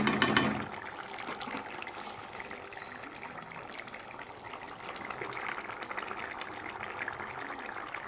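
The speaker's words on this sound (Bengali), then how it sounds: "এইভাবে আমি সিদ্ধ করে নেব উঠিয়ে দেখব ডালটা দেখব সিদ্ধ হয়েছে কিনা" Dal (lentils) simmering in a pot of water, a steady bubbling and churning wash of liquid noise that holds fairly even throughout, slightly louder at the start.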